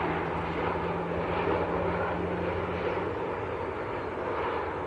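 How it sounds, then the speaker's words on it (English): A Boeing Dreamliner airliner taxiing at Manchester Airport, a steady distant jet engine whine and broad roar that holds evenly throughout. "I see another nice aircraft coming out in the background as well, the North Atlantic Dreamliner just taxiing out"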